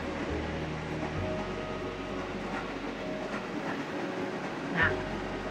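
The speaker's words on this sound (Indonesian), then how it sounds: "ada kereta lewat" A train rumbles past steadily nearby with clattering wheels and a low drone, and a brief squeal or horn-like tone rises near the end, with no talking over it.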